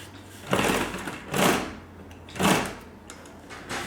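Upholstery sewing machine stitching heavy fabric in three short bursts, the motor running slowly as the seam tightens, with quiet pauses between each run.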